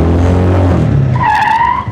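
A car skids sideways with a loud, close rumble of engine and tires that gives way to a high sustained squeal, lasting under two seconds.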